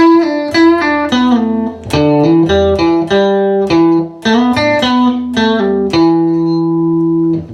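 Guitar playing the closing section of a song's intro: a run of clear, ringing picked notes and short phrases with slides, sustained on a final held note, played alone.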